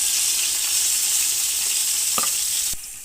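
Whole garam masala spices dropped into hot oil, giving a loud, dense, continuous sizzle up close with a couple of faint clicks before it suddenly drops away near the end.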